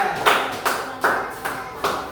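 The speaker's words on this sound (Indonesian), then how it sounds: "tepuk tangan untuk kelompok 3" A classroom group gets a round of applause: five bursts of clapping, each rising sharply then fading, with a faint voice underneath.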